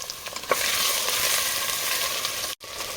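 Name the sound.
potatoes and soybean frying on high flame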